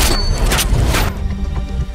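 A loud booming gunshot with a heavy thud from an action movie trailer, full and close, its blast spreading out and decaying with no voices over it.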